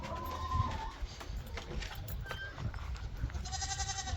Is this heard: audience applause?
no